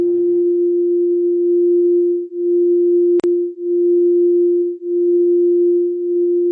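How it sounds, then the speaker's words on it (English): Two keyboards play a steady sustained tone detuned by 4 cents, producing slow audible beating as the loudness swells and dips every couple of seconds, with a brief click midway; no voices. "you can hear the beating between the two keyboards because they're not actually playing the same note"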